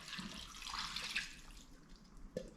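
Red wine, a Chianti, splashed into a pan of Bisto and Oxo gravy, a soft trickling pour close by with a brief sharper splash and clink at the end.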